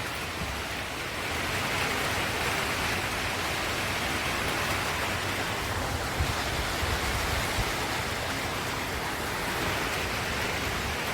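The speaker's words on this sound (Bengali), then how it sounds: "প্রচণ্ড পরিমাণে বৃষ্টি" Heavy rain pours over a village home, heard from a rooftop as a dense, steady hiss of water on surfaces that continues unbroken, with no voices.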